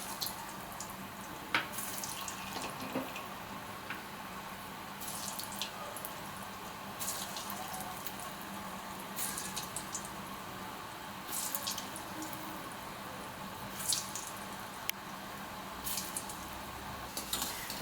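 Beetroot kola balls dropped into hot oil, giving a faint, steady frying sizzle with scattered soft pops and crackles, heard close and quiet with no one talking.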